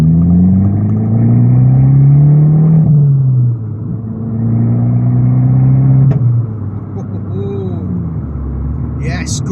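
An Abarth car with a vent filter accelerates hard in second gear, the engine note climbing loudly, dropping at a shift and rising again; a voice talks over it.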